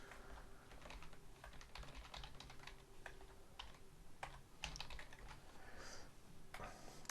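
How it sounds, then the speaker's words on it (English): Someone types on a computer keyboard at a desk while building a no-code accounts receivables app, producing quick uneven bursts of soft key clicks, close and quiet, with no talking. "when I'm making these videos, my typing suddenly deteriorates"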